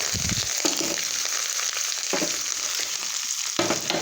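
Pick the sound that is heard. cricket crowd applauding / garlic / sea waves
garlic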